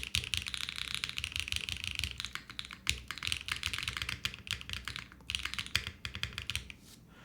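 Fast typing on a Think6.5 V3 mechanical keyboard gives a close, continuous stream of clacking keystrokes with short pauses between bursts.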